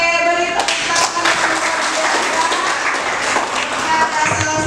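A classroom of students clapping for a classmate during a biology lesson, busy close clapping mixed with voices and chatter.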